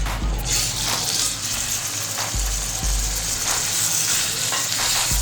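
Minced chicken hits hot oil in a pan and sizzles loudly and continuously, with a few stirring scrapes and knocks against the pan breaking through the steady frying hiss.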